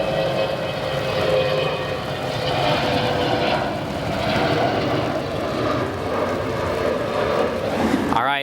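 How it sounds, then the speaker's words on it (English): The jet engines of a McDonnell Douglas MD-95 (Boeing 717) airliner roar steadily as it departs O'Hare Airport, a continuous broad rumble with a whining tone that holds loud throughout, no talking. "let's listen to these engines as it departs to a right"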